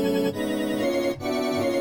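A single key is held on the Quanta granular synthesizer, giving a dense, sustained, bell-like tone layered from many tiny chopped grains. It is loud and steady, with two brief dips in the texture and no voices.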